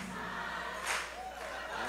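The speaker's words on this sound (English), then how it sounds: "Love how he stops the crowd here." A live concert crowd at a show at Webster Hall roars and cheers in a loud, diffuse wash of voices, with swells of shouting rising over music in the background.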